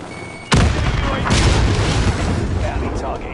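A grenade goes off in the Warzone battle royale shooter on PS4, a sudden loud blast with a rumbling tail that carries on for several seconds under other game noise.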